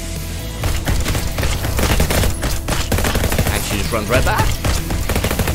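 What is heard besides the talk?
nail gun and flamethrower turrets firing in a video game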